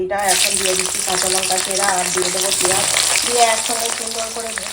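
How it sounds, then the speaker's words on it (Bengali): Garlic and green chillies frying in hot oil, a loud bright crackling sizzle that bursts up at once and holds steady, with a voice talking over it. "রসুন কাঁচা লঙ্কা দিয়ে একসঙ্গে সুন্দর করে ভেজে নেবো"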